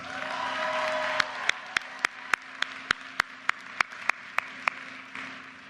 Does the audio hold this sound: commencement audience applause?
yes